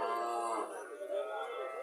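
A Friesian dairy cow at a market lows in one long, drawn-out moo that dips and rises, close and fairly loud, filling the whole moment.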